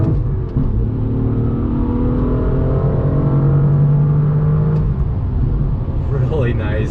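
A 2018 BMW M2 pulls in second gear through a right-hand bend on throttle, its engine note rising smoothly and steadily under a speaking voice.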